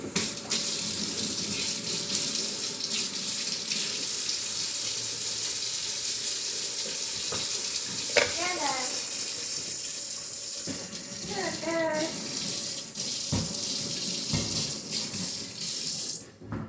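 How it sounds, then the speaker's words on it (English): Two knives are rinsed under a running kitchen tap, a steady hiss of water into a sink with brief splashing changes as the blades pass through the stream. "we're going to hurry and wash both of these really fast."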